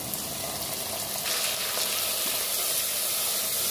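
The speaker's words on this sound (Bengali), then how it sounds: "এটা একটু ভেজে নেব।" Ginger and garlic paste fries in a pan with a steady, close, loud sizzle and hiss throughout, with no talking over it.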